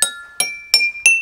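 A drinking glass struck four times in an even rhythm, each tap giving a bright, close ringing tone that sustains and fades before the next strike.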